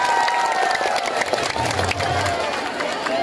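Audience applauding Kaesang Pangarep, son of President Jokowi, at a public gathering in Pandeglang; dense, steady clapping from a crowd fills the clip, with voices and cheering mixed in.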